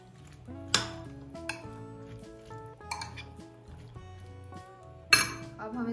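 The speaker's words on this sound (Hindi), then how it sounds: "दही को हम मिक्स कर लेते हैं" A spoon clinks against a bowl while yogurt is stirred into black chana chaat, giving a few sharp metallic taps over soft mixing and background music.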